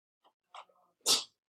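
A single loud, abrupt sneeze during a pre-algebra class, preceded by a few soft breathy sounds in an otherwise quiet room.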